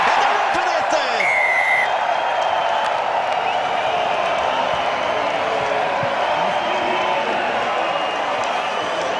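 A rugby crowd roars and cheers after a try in a Ranfurly Shield match between Counties Manukau and Taranaki, a broad, loud, sustained wash of noise with a commentator talking over it and a whistle blast near the start.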